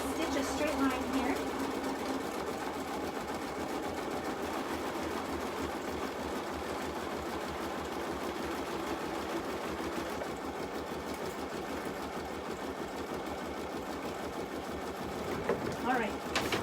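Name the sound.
sewing machine stitching a straight line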